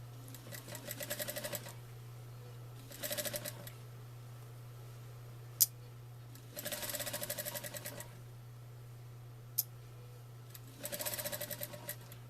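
A sewing machine runs in four separate bursts of rapid, even stitching through layered quilted fabric, with quiet pauses in between where the fabric is adjusted. Two sharp clicks fall in the gaps, and a steady low hum continues underneath throughout.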